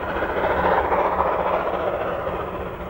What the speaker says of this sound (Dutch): Aan het zachter worden van het geluid herkent men dat de machinist het ganghendel ophaalt en de vulling vermindert.